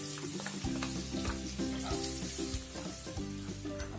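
Garlic, ginger, green chili and onion fry in hot oil with a dense, steady sizzle, while a low tonal hum pulses rhythmically underneath throughout.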